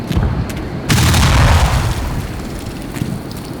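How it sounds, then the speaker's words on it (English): Grenades set off landmines in the shooter game Black Mesa, giving a loud, close, booming double explosion with a short first blast and a heavier rumbling second one that fades into a long tail. "we are going to use, grenades here. Just to clear out some of these"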